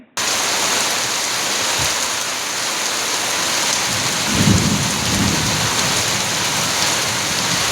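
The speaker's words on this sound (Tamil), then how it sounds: "மாலையில் மேகங்கள் சூழ்ந்து இடி மின்னலுடன் கனமழை பெய்தது" Heavy rain pours steadily and close by during an evening thunderstorm, with low rumbles of thunder rolling under the dense, continuous hiss of the downpour.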